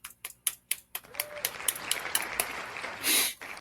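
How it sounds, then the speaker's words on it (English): A few people clap: several sharp separate claps open the sequence, then a denser patter of clapping follows, with a brief louder burst near the end. Everything sits close and fairly quiet, with no talk. "Yep. Clap it up."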